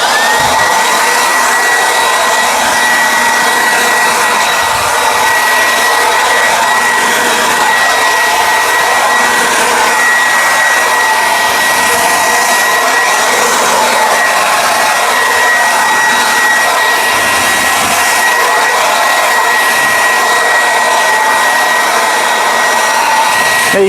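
Cordless leaf blower clearing debris off a flat top surface, a steady loud whine and rush of air running unbroken the whole time, close to the listener with no talk.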